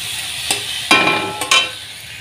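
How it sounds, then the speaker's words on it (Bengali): Lentils (dal) frying in a pan with garlic, onion, green chilli, bay leaf and dried red chilli, a steady sizzle broken by a few sharp bursts as the mixture is stirred, close and loud, no voices. "ডালটা একটু ভাজা ভাজা"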